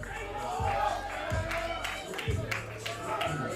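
Hyped baseball fans at a Jaguars vs Aggies game make a rumble of crowd noise, with scattered shouts and hollering voices rising above it at a moderate distance.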